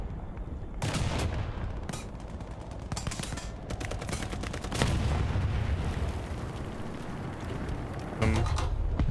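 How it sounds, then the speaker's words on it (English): Tank main gun firing in the War Thunder video game, a Pz. IV F2 loosing several loud, sharp blasts spaced a few seconds apart over a steady rumbling battlefield background, with no voices. "Fire some shots at him."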